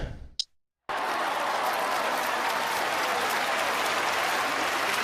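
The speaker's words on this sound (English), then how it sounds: "And the crowd goes wild." Steady, loud applause from a crowd with scattered cheering fills the space after a brief opening blip and a short silence, continuing unbroken to the end with no talk.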